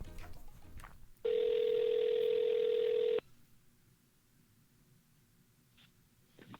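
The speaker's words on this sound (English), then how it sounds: "I'm gonna call my buddy Devin" A single steady electronic ringing tone on a phone line lasts about two seconds, then stops, leaving quiet background hiss.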